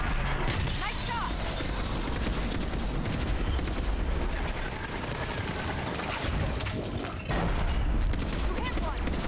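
Dense, continuous gunfire and booming blasts from the video game Mass Effect 3 fill the scene, loud and relentless bursts with brief voices cutting in amid the combat.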